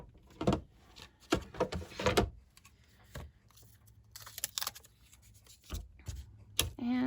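Scissors cutting out a paper greeting for a card, a few short close snipping and rustling bursts separated by quiet pauses, with faint handling noises in between.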